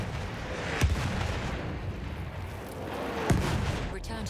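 Enemy artillery barrage in the video game Battlefield 1: a continuous rumbling battle din with two distinct heavy impacts standing out, one early and one late.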